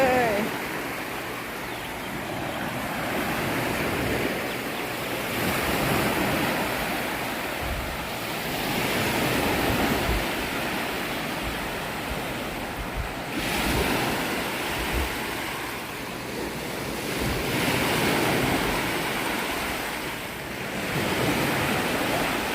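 Sea waves washing onto a clean beach at Sattahip, Chonburi, a broad continuous surf roar that swells and recedes in slow cycles, with wind buffeting the microphone and someone talking over it.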